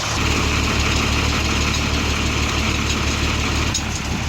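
A ten-wheeler truck engine idles steadily through a homemade exhaust pipe, a low, continuous rumble with a constant rough throb that holds for the whole stretch.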